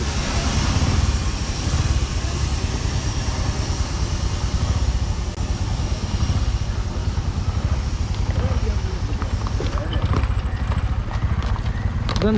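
On a small farm, a horse's hooves clip-clop in a steady rhythm as it is ridden, continuous and fairly close, while people talk over the sound throughout.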